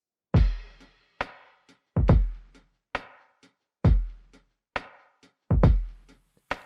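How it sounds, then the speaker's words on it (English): Lo-fi hip hop drums played in by hand on a Maschine without quantizing: punchy kicks, snares and hats hit in a loose, slightly uneven groove, clear and close with nothing else playing. "tip number 5 is to play in your drums and to leave it unquantized"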